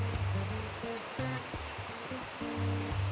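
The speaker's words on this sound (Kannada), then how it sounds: "2 ಲೋಟದಷ್ಟು ನಾನು ನೀರು ಹಾಕ್ತಾ ಇದ್ದೀನಿ ನೋಡಿ" Water is poured into a pot for boiling while cooking uppittu, a steady splashing gush with uneven surges and a few sharp clinks, heard near and fairly loud.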